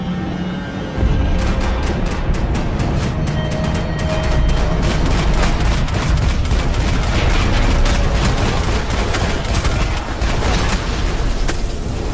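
Sustained gunfire in a heavy, dense barrage of shots rattles on continuously and loudly for over ten seconds with no talking over it.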